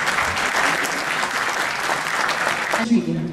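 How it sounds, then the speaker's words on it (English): Audience applause for a performer at the ICT Awards 2009 awards evening: a dense, steady wash of clapping from a large crowd that cuts off near the end, leaving a brief voice speaking. "Can you please give Yasir a very big round of applause?"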